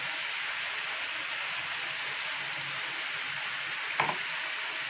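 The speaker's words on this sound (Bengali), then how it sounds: "পোস্তটা দিয়ে নাড়াচাড়া করব।" Ridge gourd and potato with poppy seed paste cook in a pan, giving a steady, even sizzle throughout. Near the end comes a single brief scrape or clink as the mix is stirred.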